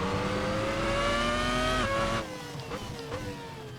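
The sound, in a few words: race car engine revving in Assetto Corsa video game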